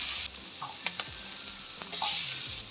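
Capsicum and garlic frying in butter in a hot pan, a close sizzle that swells loudly at the start and end, broken by a few sharp utensil clicks and stirring scrapes.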